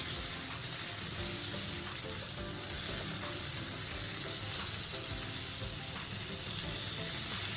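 Pork chikuwa rolls fry in a pan toward golden brown, giving a continuous, fairly loud sizzle and crackle with a faint faucet-like wash of sound beneath, no voices.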